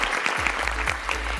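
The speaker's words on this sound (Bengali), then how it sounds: "কঙ্কার জন্য একটা জোরে করতালি হবে" An audience claps loudly and continuously in a studio during the grand finale of a televised family reality contest, a dense, even wash of hand claps with no voices.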